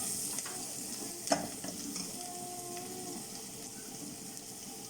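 Marinated chicken pieces sizzle and fry steadily in a pan, a soft continuous crackle with one sharp clink of a utensil early on.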